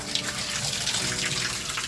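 Water gushing from a hand pump, a steady, close, loud splashing rush that continues without a break.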